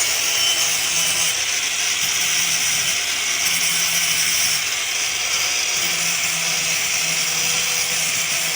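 Sanding off the sharp edges and tips of a wooden garden torch, a continuous close, even abrasive rasp of a power sander on wood running steadily with no pauses.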